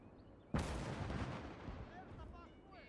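An anti-tank gun fires once in Call to Arms Gates of Hell, a sharp loud blast followed by a long rumbling decay, with faint battlefield noise trailing after.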